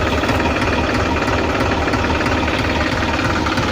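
A New Holland 3600 Heritage Edition tractor, a 47 hp diesel, idles close by with a steady low, knocking rumble that holds evenly throughout without any talk.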